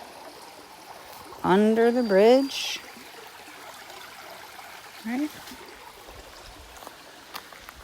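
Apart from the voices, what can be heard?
stream water flowing under a bridge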